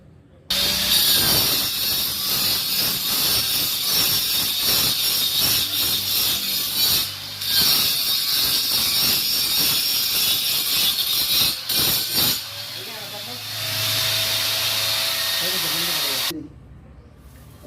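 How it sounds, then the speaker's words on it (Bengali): An angle grinder chips the edges of floor tiles during fitting, giving a loud, close, harsh grinding whine broken by repeated short cuts, then a quieter steadier hum before stopping, with a voice talking over it. "তারপর এই সাইডটাও চিপিং হবে এখন গ্যালেন্ডার মেশিনের দ্বারা, এই মেশিনটা দ্বারা চিপিং করা হচ্ছে"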